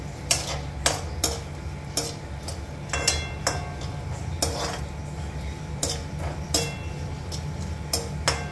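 Grated coconut is lightly roasted in a pan for a homemade mixture snack while a metal spatula scrapes and taps against the pan in regular, crisp clinks over a soft background hiss.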